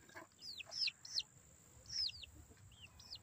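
Several Leghorn chickens, including at least two roosters, cluck and squawk nearby in short, sharp calls over a low murmur of background noise.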